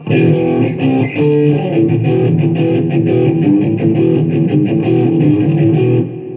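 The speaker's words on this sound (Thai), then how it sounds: "ผมจะไม่ค่อยใช้เสียงแตกแบบนี้นะครับ" Distorted electric guitar with single-coil pickups strummed in a steady rhythm, loud and gritty, chords ringing for several seconds before stopping abruptly.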